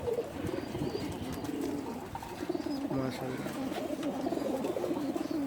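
Male pigeons of a fancy breed, including a green-necked khaki cock, coo in a low, steady, repeated rhythm close by, with throaty murmuring throughout and faint chirps in the background.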